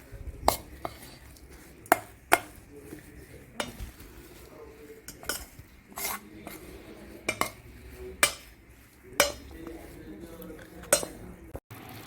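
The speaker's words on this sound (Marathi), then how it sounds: "चला आता आपण याला मिक्स करूया एकदम मस्त मिक्स करायचं" A spoon stirs egg batter for appe in a bowl, giving a series of sharp, close clinks against the bowl over a soft, steady scraping of mixing, with no talking.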